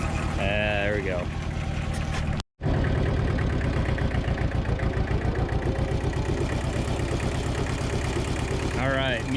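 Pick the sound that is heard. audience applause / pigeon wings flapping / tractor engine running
tractor engine running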